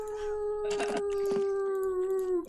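People on a Zoom call imitate wolf howls for a full moon meditation, a sustained steady howl-like tone held for a couple of seconds with bursts of other voices layered briefly over it, tapering off at the end.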